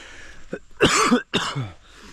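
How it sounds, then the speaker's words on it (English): A few harsh, wet coughs close by, two strong bursts separated by a brief pause, with a quieter breathy one after. "I'm still dealing with a fucking nasty cough."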